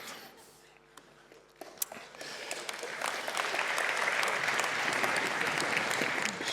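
Applause from a conference audience at a KotlinConf 2019 programming talk swells from scattered claps into steady, full clapping across the hall, fairly distant and sustained to the end.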